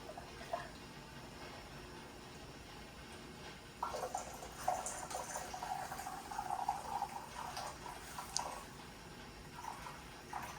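Grape juice pours into glass canning jars, a soft liquid trickle and splash that swells from about four seconds on with irregular bursts, moderately close and fairly quiet, with no talking.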